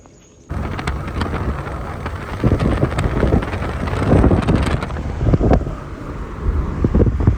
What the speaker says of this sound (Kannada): ಎಂಜಾಯ್ ಮಾಡ್ತಾಯಿದ್ದೀನಿ ಮಳೆ